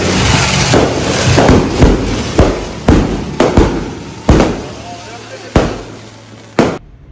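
Fireworks at a summer outing burst in a string of sharp, loud cracks and booms spaced a second or so apart, each with a brief echoing tail, with people talking in between.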